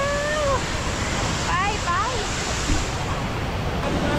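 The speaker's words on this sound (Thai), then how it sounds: "ถึงแล้วทุกคน น้ำตกลูกหัวใจ อยู่ตรงนู้น" A heart-shaped waterfall in Thailand sends up a steady, loud rush of falling water, heard from fairly close. Someone talks over it at times.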